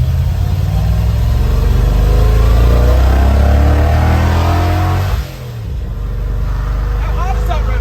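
A loud Ford F100 truck engine revs hard and steady over the brakes at its first fire-up, then drops off sharply, with a voice talking over the roar.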